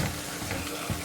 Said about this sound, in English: We'll just keep whisking this until it gets smooth again.